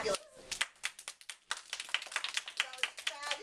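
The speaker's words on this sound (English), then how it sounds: "let's give everybody a big round of applause" Classroom applause for volunteers, a scattered and fairly quiet burst of hand claps from a small group, uneven and close, with brief pauses between flurries.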